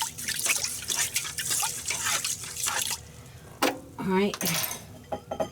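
A measuring spoon stirring a slow cooker meal with rice and bouillon: light metallic clinks and wet scraping against the pot, with a brief spoken remark and some clatter near the end.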